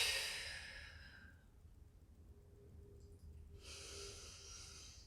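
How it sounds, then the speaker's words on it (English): Soft, close exhale during a stick mobility workout for the hips and spine, a single breathy sigh fading out, followed by a second airy breath, both faint and unaccompanied by talk. "Keep breathing, exhale"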